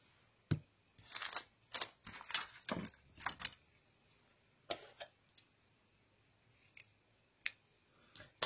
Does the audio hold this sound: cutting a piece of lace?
yes